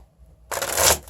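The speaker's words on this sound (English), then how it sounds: "Get a few shuffles in here, and we will begin the reading." Tarot cards shuffled by hand in a sudden close, loud riffling burst of rapid papery flutter lasting about half a second after a moment of quiet.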